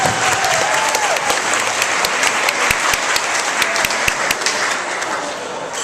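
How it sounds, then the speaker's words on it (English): Wedding party guests break into a round of applause for the groom's parents, a loud, sustained burst of many hands clapping, with a few sharper individual claps standing out and slowly easing off toward the end. "give you a round of applause"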